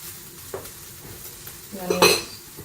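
Bacon fries in a pan with a soft, steady sizzle, punctuated by a light utensil tap early on and a louder burst of crackling and stirring near the end.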